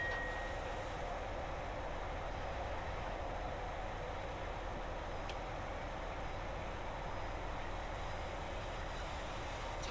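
A steady, droning HST diesel train engine hum in Train Simulator 2018 with rolling rail noise underneath, constant and unbroken, no voices.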